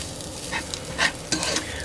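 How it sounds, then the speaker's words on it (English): Italian seasoning being stirred into a sausage sauce in a pan for lasagna, a few soft scraping stirs against a light simmering sizzle, close and fairly quiet. "You stir that in, get it stirred around."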